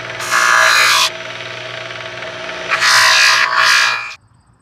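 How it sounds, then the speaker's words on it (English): A buffing wheel polishes a wooden slingshot. Two loud bursts of hissing, rubbing friction sound up close over a steady motor hum, which then cuts off. "now we're just going to hit it with the buffing wheel"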